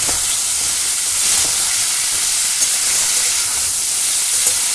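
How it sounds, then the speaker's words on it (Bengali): Steady, loud sizzling hiss of potatoes and mushrooms frying in a pan, continuous and close, with faint occasional stirring sounds. "আলু আর মাশরুমটা আমি ভালো করে কষে নেব"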